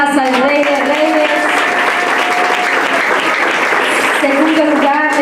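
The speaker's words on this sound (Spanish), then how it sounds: "Ofrenda de palmas al Rey de Reyes" A church congregation claps loudly and continuously, giving an offering of applause during a thanksgiving service in Zacualpa, a thick sustained wash of hand claps with a voice speaking faintly beneath it.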